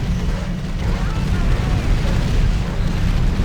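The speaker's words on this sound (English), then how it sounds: "it's an excellent bombing" Bombing explosions in a strategy video game make a loud, continuous rumbling roar of overlapping blasts with no clear gaps.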